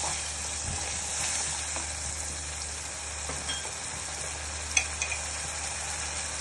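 Ground cumin and garam masala sautéing in hot oil for a rohu fish-head curry give a steady, close sizzle with faint scraping stirs and a few small pops near the end, no voices.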